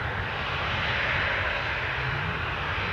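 An airplane speeds down the runway at Newcastle Airport, its engines giving a steady, loud, broad roar that holds evenly throughout.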